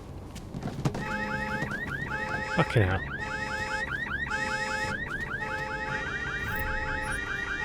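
Several car alarms wail together, layered repeating whoops and chirps that keep cycling loudly, with a brief muttered curse from a man near the start.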